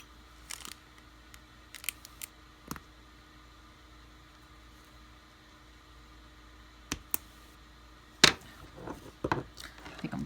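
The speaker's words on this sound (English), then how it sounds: "I need to sharpen these scissors." Dull scissors snip through thick towel fabric in a few sparse, sharp clicks, scattered irregularly across an otherwise quiet background.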